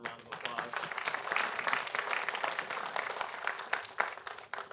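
A concert audience at a winter instrumental performance breaks into applause, a dense wash of clapping from many hands, steady and fairly close, swelling slightly toward the end.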